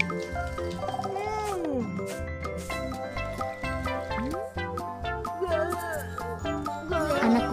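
A cartoon fairy kitten gives several sliding, high-pitched meows over bright background music, with a voice speaking between the cries.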